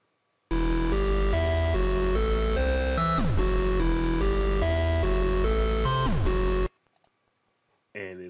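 A MIDI chord progression from a producer's loop and MIDI kit plays back as sustained synth chords that change every second or so, then cuts off abruptly. A voice briefly follows afterward.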